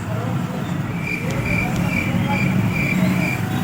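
Steady road traffic noise in a busy street, a continuous roar of passing cars and engines with a faint chirping over it, loud and unbroken throughout.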